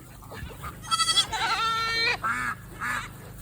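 Goats on a farm bleating loudly and close by, a few wavering, drawn-out cries in quick succession, alone without talk.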